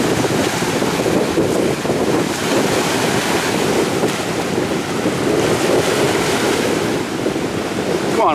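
Strong wind gusting across Windy Lake, a loud continuous roar with buffeting against the microphone and a wash of surf underneath.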